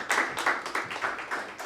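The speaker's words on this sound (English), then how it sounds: "All right, and round of applause." Audience applause at a Vermont tech event, a burst of hand claps with rhythmic peaks over under two seconds, moderately loud and close, with no voices.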